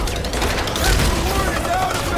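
Rapid burst of heavy gunfire from a big gun in the Marvel's Guardians of the Galaxy video game, a dense loud fusillade of booming shots with voices shouting over the combat.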